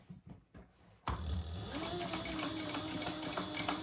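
A sewing machine stitches a 1/8 inch seam on a beginner's eyeglass case. A soft rustle comes first, then the motor starts after about a second and runs in a steady, fairly quiet hum.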